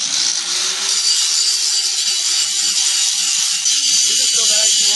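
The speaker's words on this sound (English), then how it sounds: "So now I'm going to have to grind this plate and prepare it" An angle grinder works a steel plate, prepping it for welding on a Toyota Tundra truck rack build: a steady, loud, hissing high-pitched grind that runs unbroken and close, with a low motor hum beneath.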